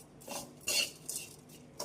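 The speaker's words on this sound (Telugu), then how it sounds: "ఇలా మిక్స్ చేసుకున్న తర్వాత ఫైనల్గా కొద్దిగా నిమ్మరసాన్ని పిండేసి మరొకసారి బాగా కలిపేయండి" A spoon stirs a crunchy snack mixture with squeezed lemon juice in a metal bowl, giving a few close, soft scrapes and clinks over under two seconds, with no talking.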